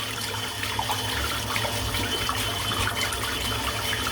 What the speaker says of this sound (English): Still a lot of soap in there, so I'll just rinse it out again.